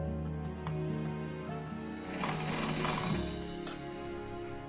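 A sewing machine runs steadily, stitching a lining and a zipper strip onto a bag made from old jeans fabric. The hum stays close and continuous, with a brief rougher, busier stretch midway.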